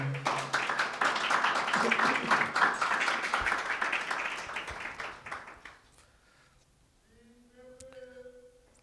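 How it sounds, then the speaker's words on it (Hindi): Church congregation at a marriage seminar clapping for Jesus Christ, dense rapid applause for about six seconds that fades out, followed by a faint voice at the end. "यीशु मसीह के लिए तालियां बजाएं"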